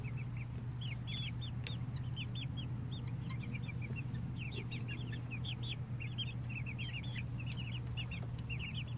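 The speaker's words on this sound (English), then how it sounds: "Yeah, beautiful chicken. I got beautiful chicken." Four-week-old Ameraucana chickens keep up a busy stream of close, high peeping clucks over a steady low hum, with no talking.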